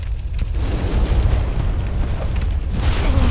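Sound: fire bomb explosion, from the video game Dark Souls

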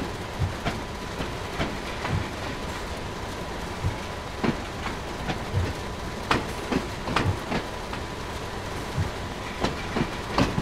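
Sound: BR 155 locomotive driving forward, video game Train Sim World 2

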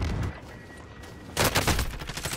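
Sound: gunfire in Call of Duty video game

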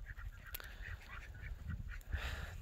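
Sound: ducks and geese honking on grass

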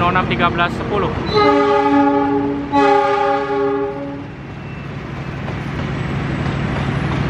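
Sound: train passing through station

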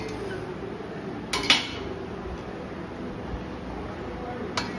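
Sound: shrimp chutney being mixed in a bowl

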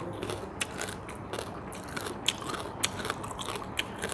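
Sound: chewing crunchy bamboo shoots

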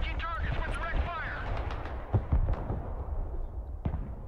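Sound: artillery strike explosions in the video game Broken Arrow

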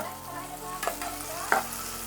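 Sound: onions frying on high flame

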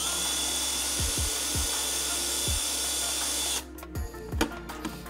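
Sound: drilling a hole in a Harley touring saddlebag

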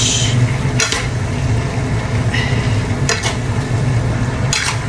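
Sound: stirring pancit noodles in a pan

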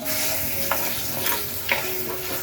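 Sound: tomato and curry leaves sizzling with fried onion

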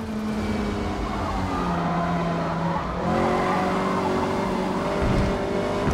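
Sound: race car scrubbing front tires, from video game Forza Motorsport

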